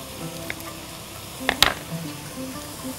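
Diced beef bacon goes into a pan with chicken pieces and sizzles quietly, a soft steady hiss with one sharp clatter of a utensil or drop about halfway through.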